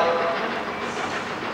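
A train pulls into the platform at Stafford station with a loud, steady rolling roar of wheels and carriages, close by and continuous.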